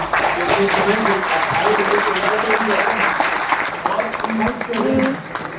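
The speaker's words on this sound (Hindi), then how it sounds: "round of applause" An indoor audience at a training meeting claps steadily in a dense, sustained burst of applause, with voices and cheering mixed in throughout.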